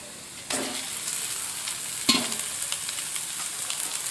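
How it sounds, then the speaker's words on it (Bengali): Small cut pieces of chicken go into a pan of well-fried onions, and the quiet sizzle jumps to a louder crackling hiss. A second addition follows with a sharp burst, then a steady fry with light stirring. "পেঁয়াজ খুব ভালোভাবে ভাজা হয়ে গেছে। এবার দিয়ে দেব মাংসের টুকরো।"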